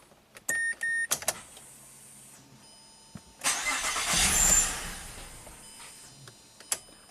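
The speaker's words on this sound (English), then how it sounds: "Prime the pump one more time." A Mazda fuel pump primes with a steady electric whir after a few sharp clicks, followed by a louder rushing hum that builds and tapers, close and alone with no talk.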